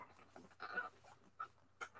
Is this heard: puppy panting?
yes